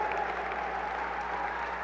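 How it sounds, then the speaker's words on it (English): Audience applause at a national charity gala, a dense, steady wash of clapping that holds at an even level throughout, with a faint tonal hum beneath it. "One more time, round of applause for all of our friends and families and heroes here"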